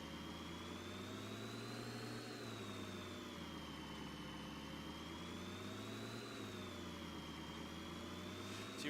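A simulated truck engine with gutted mufflers rumbles steadily in a Farming Simulator game, a loud, continuous drone whose pitch rises and falls slightly in slow waves with no pauses.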